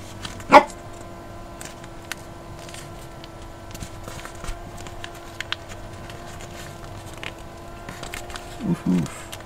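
A house dog barks at a distance, a sharp yelp near the start and a short cluster of barks near the end, over low background hum and soft tapping.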